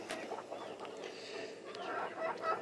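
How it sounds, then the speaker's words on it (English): Buff Laced Polish chickens in a cage make soft, faint clucks and murmurs, a low continuous chatter of several birds at moderate distance. "We got quite a few chickens now in this particular cage."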